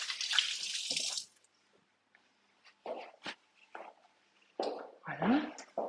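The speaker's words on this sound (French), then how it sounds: "je me rince les mains." A kitchen tap runs while hands are rinsed, a loud close splash of water for about a second, then scattered drips and small clatters before a second burst of running water.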